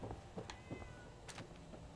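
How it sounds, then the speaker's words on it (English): A cat in the Fallout 4 video game gives several short, faint meows spread across two seconds, each a brief separate call over quiet game background. "Oh, there's a kitty."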